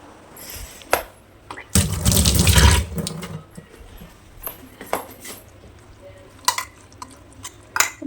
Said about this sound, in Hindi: तो पहले हाथ धो देती हूँ।